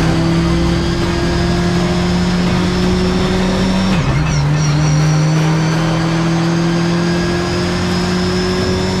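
Race car engines roar loudly and continuously at the start of the second race of an amateur championship, their pitch dipping and climbing again as the cars pull away, with no talking.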